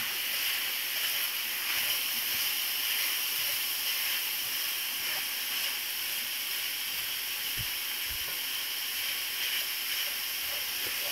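Sausage browns in a pan with a constant, even sizzling hiss up close, steady throughout with no pauses and no voices.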